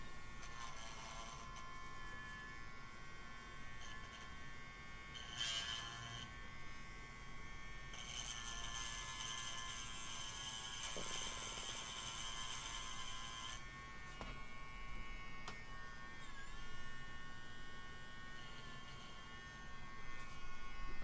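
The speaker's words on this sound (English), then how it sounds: "Printer's still warming up." Printer warming up while a fidget maze card is being made, giving a steady faint electric whir and hum that runs throughout with a few brief higher whines, no speech.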